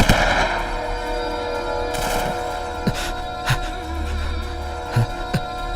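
Gunfire crackles through a Hindi-dubbed South Indian action movie scene, with sharp separate shots and short bursts standing out over a steady rumbling bed of battle noise, and no voices heard.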